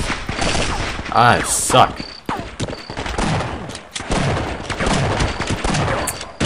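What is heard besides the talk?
gunfire in Half-Life mod They Hunger video game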